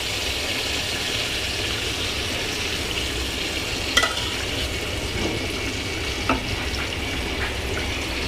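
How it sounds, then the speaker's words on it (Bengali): Rohu fish frying in oil makes a steady, dense sizzle that hangs at an even level, broken by a couple of sharp clicks and spatters. Nobody speaks. "মাছটাকে ভেজে নিই।"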